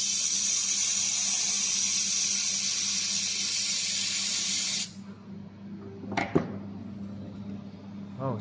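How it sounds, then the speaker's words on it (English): A fiber laser welding machine runs with a steady, loud, bright hiss for about five seconds, then cuts off, leaving a quiet room with a couple of sharp clicks. "I'm gonna make a demonstration of how fast and good it welds"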